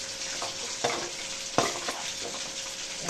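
Mushrooms sizzle steadily while being fried for a mushroom gravy, with close, repeated scraping and stirring strokes in the pan and no talking.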